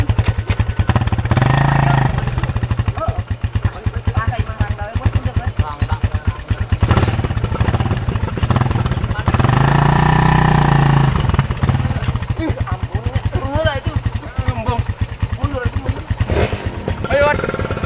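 A motorcycle engine runs loudly and close by throughout, with rough idling and short revs. People talk over the engine noise.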